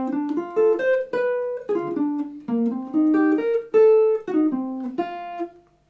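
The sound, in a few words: bebop major 7th arpeggio phrase played slowly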